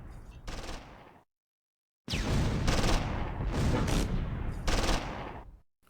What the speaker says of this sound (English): The MG-42 targets the medium machine gun. And destroys the crew.